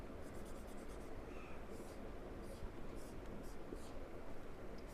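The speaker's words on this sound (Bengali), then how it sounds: "এবার এখানে আঁকছি।" A circuit loop is drawn on a board during a physics lesson, giving faint, quiet scratching strokes of the pen or chalk in short bursts against a soft background hiss.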